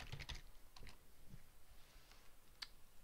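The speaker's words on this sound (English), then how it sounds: "We type in Control Panel." Quiet, close typing on a computer keyboard, a few scattered key clicks in a short burst, with no talk over them.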